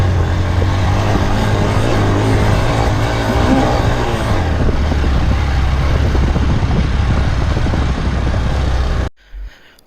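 A Hero XPulse motorcycle engine labours in first gear while climbing, a loud, steady, close drone with a slight rise in pitch partway through, before cutting abruptly to near silence at the very end.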